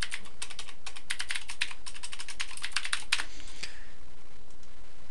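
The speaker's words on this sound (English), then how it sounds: "I can certainly type in what I need." Steady typing on a computer keyboard, close and clear, with irregular clusters of key clicks running for about four seconds before trailing off.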